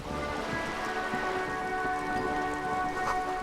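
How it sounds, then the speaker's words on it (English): Steady, continuous rain falling in the video game Disco Elysium, an even wash of patter heard alone at a constant level with no talk. "And it's raining again."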